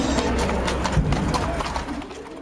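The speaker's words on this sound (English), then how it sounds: "Police mounted refers to police officers patrolling on horseback" Hooves of a police patrol horse clip-clop on pavement in a steady walking rhythm, moderately close, over a busy outdoor background with faint bird calls.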